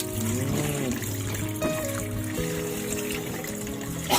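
Liquid is poured into a cooking pot set on a stove, a continuous trickling splash at moderate volume that runs steadily from start to finish.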